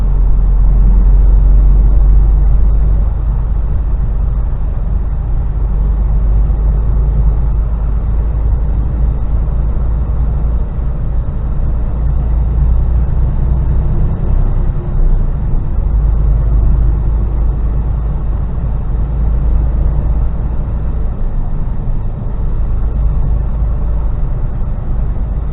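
Steady low engine rumble and road noise inside the cab of a Mercedes Actros HGV truck on the move in the UK, continuous and loud with no talking.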